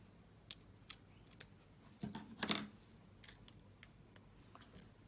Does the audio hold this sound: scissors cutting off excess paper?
yes